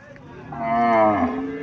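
A cow moos once at a cattle fair in Mirshanni, Cumilla, where local and Sahiwal cattle are traded; the long, loud call rises then falls over low market murmur.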